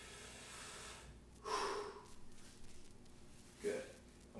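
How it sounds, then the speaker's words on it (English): A man takes a big belly breath in during a hip flexor stretch, reaching overhead with a slight lean; two distinct breathy inhales stand out over quiet room tone. "big belly breath in"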